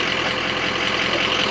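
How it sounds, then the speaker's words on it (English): A loud truck rumbles close by as it passes along the street, a steady roar that fills the moment with no pauses. "Can you hear me over the sound of that loud truck?"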